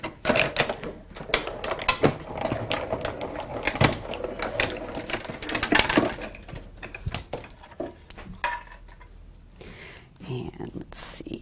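Die cutting machine cranking cutting plates through for a textured gilded card, a run of rapid ratcheting clicks and gear noise, close and fairly loud, easing into sparser handling sounds.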